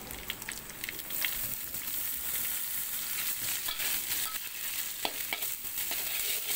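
Meena kirai (fern shoots) stir and fry in a pan, giving a continuous soft sizzle with repeated scraping and clinking of the spatula through the greens.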